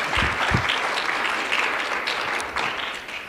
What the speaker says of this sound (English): let's give a round of applause for the Mental Health Week Committee